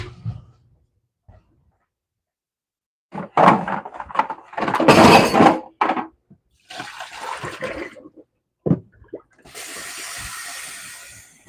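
Water is poured and splashed out of a container of sharpening stones, then fresh water runs from a tap, coming in several loud bursts of splashing and running water close by.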